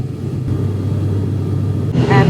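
Inside a Caribbean Airlines plane cabin waiting for takeoff, a steady low engine drone and rumble fills the space, rising into a brighter whine near the end.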